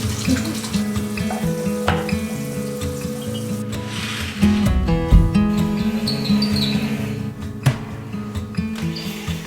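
Tap water runs into a sink during rinsing, a continuous splashing stream with clattering dishes or objects, close and fairly loud, and a few words spoken briefly.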